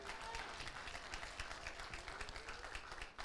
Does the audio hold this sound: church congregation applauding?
yes